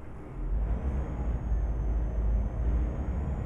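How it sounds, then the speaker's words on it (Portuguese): An Iveco S-Way truck pulls away in Euro Truck Simulator 2, giving a steady low engine rumble that swells slightly as it moves off, loud and continuous, with a faint high whine above it and no talk. "Arranca, caminhão."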